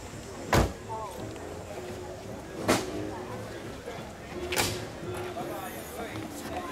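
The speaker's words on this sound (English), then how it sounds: "Let's pop the hood." The hood of a 1990 Buick Reatta convertible is popped open, sounding as a few sharp metallic clunks and latch clicks spaced a couple of seconds apart, close by, with people talking quietly around it.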